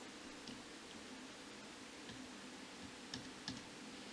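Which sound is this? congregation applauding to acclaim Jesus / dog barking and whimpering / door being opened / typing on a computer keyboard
typing on a computer keyboard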